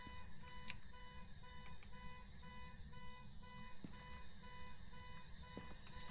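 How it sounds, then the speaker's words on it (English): A car alarm blares steadily in the Phasmophobia ghost-hunting game, its repeating electronic tones continuous and moderately loud over a low rumbling background. "Can we shut off the damn car alarm?"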